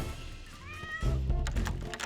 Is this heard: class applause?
no